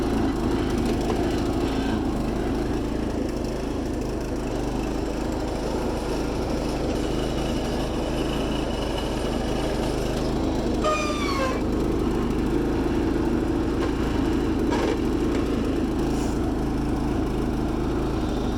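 Sears Suburban dually garden tractor repowered with a Predator 212 engine runs steadily nearby, a constant low droning engine note holding throughout with no talking.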